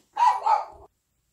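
A dog gives a single short, double-pulsed bark at a mailman, fairly close and clear, followed by silence.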